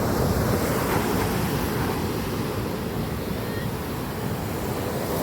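Steady roar of sea waves breaking on a shore in Zambales, with wind buffeting the microphone throughout and no voices.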